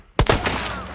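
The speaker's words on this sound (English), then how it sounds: "Shotgun." A single close, heavy shotgun blast in the game Hunt: Showdown, a sudden loud boom followed by a quick second thump and a reverberant tail that fades out.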